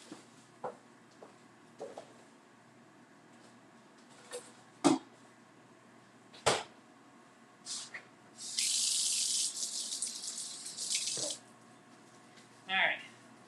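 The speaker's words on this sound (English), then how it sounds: "washing my hands" Hands being washed under a running kitchen tap during a home cooking session: a steady hiss of water flowing for a few seconds amid scattered clinks and knocks, fairly close.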